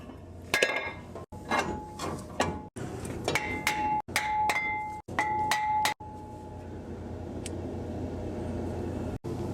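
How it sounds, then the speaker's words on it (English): Metal clips and guides being snapped and tapped into a Ford F-150 brake caliper bracket, a run of sharp clinks and ringing metallic clicks over about six seconds, close up, followed by a low steady background hum. "So we're snapping in these new guides for the pads."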